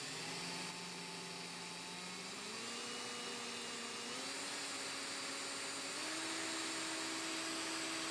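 A power drill runs steadily in a workshop during cylinder head installation on a 1964 Triumph TR4. The motor makes a loud, continuous whine whose pitch steps upward a few times as the speed increases, and no one speaks.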